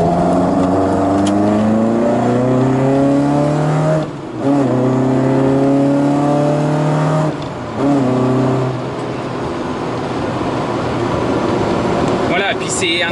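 A carbureted, naturally aspirated car engine revving up and down in repeated rising sweeps, loud and close, with brief dips between pulls and rough crackling backfire pops hard to pick out beneath the engine.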